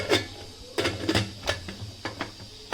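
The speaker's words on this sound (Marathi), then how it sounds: "आता आपण कुकरचं झाकण लावून घेऊयात" Metal lid of a pressure cooker holding chickpeas, water and salt being fitted and locked shut, a series of sharp clanks and clicks at close range with quiet gaps between them.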